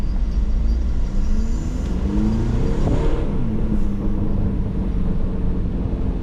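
A B8.5 Audi A4 2.0 TDI diesel engine with a K&N air filter rumbles steadily, swelling briefly in a rev with a whooshing intake sound, close and loud with no one talking.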